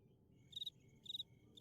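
A cricket chirps in three short, evenly spaced trills, each a quick rapid pulse, fairly faint over a low steady background hum with no voices.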